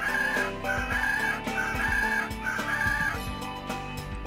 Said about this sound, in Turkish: Sonum geldi diye öten bir horozmuş bu.